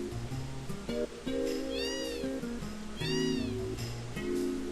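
Two separate meows from a cat in the video game Final Fantasy VII ring out a second or so apart, over a looping pattern of tinkling game music notes.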